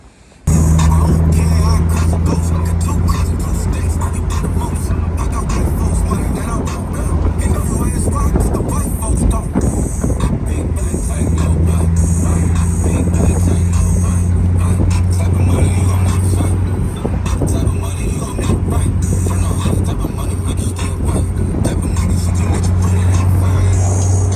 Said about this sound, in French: But I'm gonna drive with the top open for now.